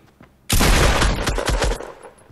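A shotgun blast in the video game Fortnite hits suddenly and loudly, followed by about two seconds of rumbling, crackling decay before fading out.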